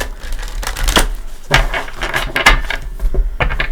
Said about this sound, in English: I'm going to give it a shuffle or 2